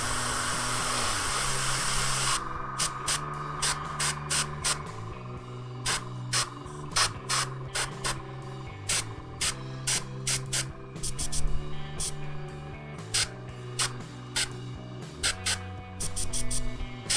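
Airbrush spraying paint in short, repeated bursts onto miniature armour plates, each stroke a brief hiss over a steady low background with music underneath, building up slowly.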